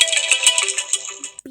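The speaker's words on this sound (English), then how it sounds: "Apex" The Apex ringtone sounds from an iPhone XR as a dense, bright cascade of rapid synth tones, loud and close, continuing for over a second without speech.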